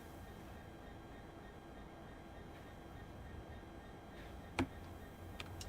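A slow train pulling into Reading station in Train Sim World 2 gives a steady low rumble throughout, with one sharp clank near the end and a few lighter knocks after it.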